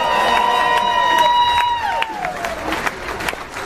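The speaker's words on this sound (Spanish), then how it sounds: "¡Gracias por esos aplausos!" Audience applause and cheering at a live comedy show in Houston, a steady clatter of clapping under a sustained tonal sound that drops away, leaving lighter scattered claps toward the end.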